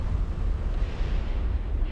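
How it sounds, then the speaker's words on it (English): Pirate structures explode in the EVE Online space game with a deep, sustained rolling rumble, continuous and heavy for the full two seconds, and no speech. "the beautiful explosions"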